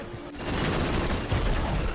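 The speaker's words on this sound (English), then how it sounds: "they encounter the army fighting the giant monster, using missiles and even cannons" A film battle scene in which an army fires missiles and cannons at a giant monster. A sharp blast opens a dense, continuous barrage of booming fire that stays loud throughout.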